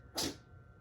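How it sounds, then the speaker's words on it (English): One tiny, sharp sneeze bursts out up close right after hairspray is sprayed on bangs, a single brief airy puff that fades quickly into quiet room tone. "Tiny sneezing because I just sprayed my bangs with hairspray"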